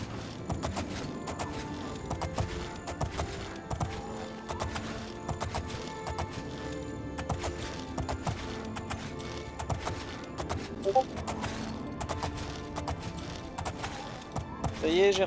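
A horse's hooves clip-clop at a steady rhythm along a paved road in the video game Oblivion, continuing under music and game sounds throughout.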